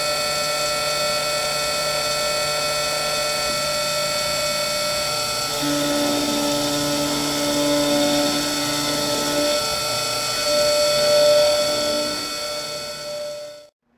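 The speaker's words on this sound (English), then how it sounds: "So I click begin milling," A Roland Modela milling machine cuts a circuit board, giving a steady high-pitched whine with sustained tonal lines and shifting pitches. It runs continuously and fairly loud for about 13 seconds with no talk, then stops abruptly.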